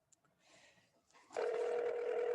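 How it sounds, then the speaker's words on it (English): A telephone line clicks and hisses faintly, then a steady ringing tone starts and holds while a call reconnects. "So as soon as Peter answers the phone"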